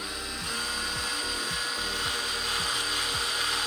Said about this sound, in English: there's metal behind this rubber that you're drilling into